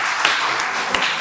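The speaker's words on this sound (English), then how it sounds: "Everyone give Shari a big round of applause" An audience at a career guidance program applauds, a brief dense burst of clapping from many hands filling the room at moderate loudness, with no voices over it.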